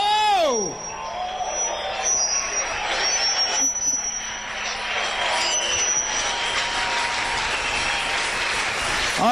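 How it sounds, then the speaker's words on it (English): A worship congregation claps hands to praise King Jesus, a big, dense wall of applause filling a church hall, while a voice is heard talking over it. "when you clap your hands for King Jesus, you lift him above your head and clap your hands"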